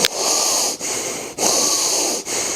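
Loud, hissing wheezy breaths of a person exercising while seated on a plane, drawn in long strained pulls with brief pauses between, close and without talk.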